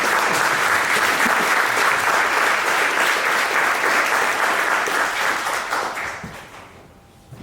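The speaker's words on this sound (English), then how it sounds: "So make some noise for Rob" Audience applause for an interviewer at a hip-hop interview event, a dense, steady roar of many hands clapping that holds loud for several seconds and then tapers off near the end.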